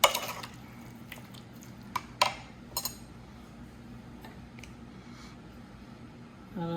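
A spoon clinks against a bowl while sugar is stirred into potato salad, giving a few sharp taps and scrapes over a quiet kitchen hum, faint overall and close.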